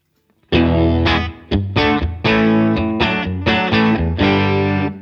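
Guitar played through a Line 6 HX Effects reverb preset imitating an amp-in-a-box pedal: a series of loud, slightly driven chords struck one after another, each ringing out with a short reverb tail.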